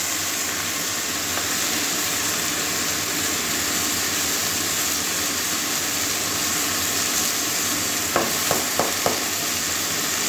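Freshly washed spinach sautés in a hot pan with a loud, steady hiss of sizzling, and a few quick stirring scrapes come near the end, close up with no voices.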